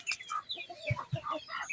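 Chickens and chicks on a farm cluck in a few short, close calls, with two low clucks near the middle among brief chirps and other soft bird sounds.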